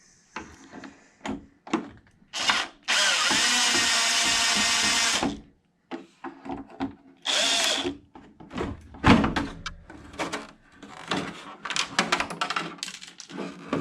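A power tool removes pulled-through bolts on a Traxxas Xmaxx 8s RC truck in two sustained whirring bursts, separated and followed by scattered clinks, taps and clatter of parts. There is no speech.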